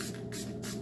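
An aerosol spray paint can sprays flat black paint in short hissing bursts, about three quick pulses close by, with no talking.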